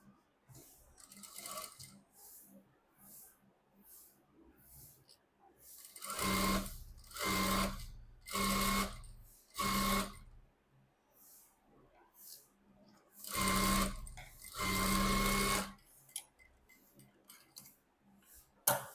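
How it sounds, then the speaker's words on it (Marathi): A sewing machine stitches along the neckline and lower edge of a back-neck design, running in several bursts of rapid mechanical whirring separated by pauses, fairly close and loud, with no talk. "त्यानंतर खालच्या सुद्धा साईडला अशाच पद्धतीने टीप मारायची आहे."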